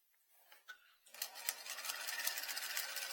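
A sewing machine stitches a closed-ended dart. A few quiet clicks of handling the fabric come first, then the machine starts up and runs in a steady, fairly soft, close rhythmic whir.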